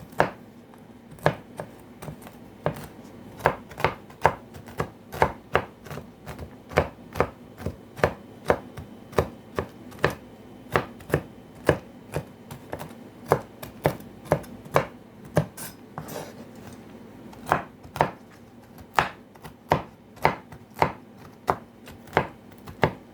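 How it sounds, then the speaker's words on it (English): Ingredients for eggless, flourless oatmeal cookies chopped finely on a board, a long run of sharp knife chops in an uneven but steady rhythm, close and loud with a faint hum beneath and no talk. "I'm gonna chop my as fine as possible."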